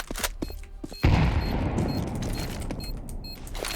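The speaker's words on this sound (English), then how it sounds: "Grenade." A grenade going off in Counter-Strike 2, a sudden loud close blast followed by a long rumbling decay, with a few faint clicks and game effects before and after.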